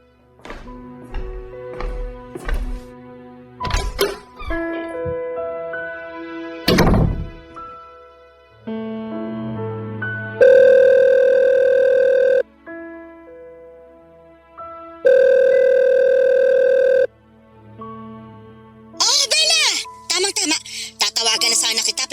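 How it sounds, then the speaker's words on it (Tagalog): A telephone calling tone sounds with long, steady electronic rings in separate bursts, loud and close, after assorted clicks and taps from the handset, with no voices over the rings. "Tatawagan ko lang si Mama."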